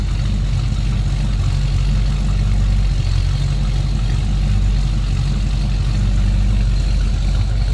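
A 1973 Ford Mustang Mach 1 with a 351 V8 idles steadily, a loud, close, deep rumble holding an even low throb with no talking.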